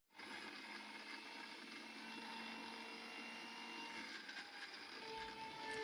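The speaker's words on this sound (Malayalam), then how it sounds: "അപ്പോൾ ഇത് നമുക്കൊന്ന് മിക്സിയിൽ കറക്കിയെടുക്കാം." A mixer grinder whirs steadily, grinding masala for Thalassery biryani, a continuous loud motor drone with rattling blade noise that holds without pause from start to finish.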